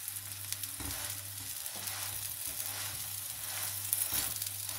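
A green onion paratha frying in olive oil on a hot pan gives a steady close sizzle with faint crackles and a few soft scraping touches throughout.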